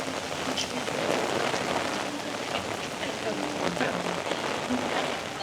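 Heavy rain from Storm Helene pours down at a Walt Disney World theme park in September 2024, a steady, dense hiss of drops hitting surfaces with no letup, with faint background noise beneath.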